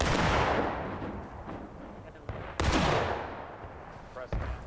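Gunfire in the video game War of Rights, a 1776 event public match: two big booming musket-style shots, each with a long decaying rumble, the second sharper and louder, with a smaller pop near the end.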